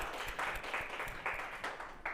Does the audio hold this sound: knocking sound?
no